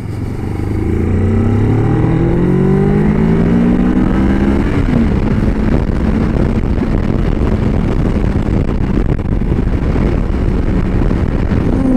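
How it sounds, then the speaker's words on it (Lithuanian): 2025 Moto Morini X-Cape 700 adventure motorcycle engine accelerating hard through rising gears, then settling into a loud sustained drone with wind rush; no talk. "tas variklio garsas tarsi kaip sportinio bolido, tarsi Formula 1"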